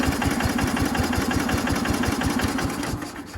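A 1969 Bolens FMC Husky 1053 garden tractor engine runs cold, its rapid, even low putter beating close and steady and dipping slightly near the end.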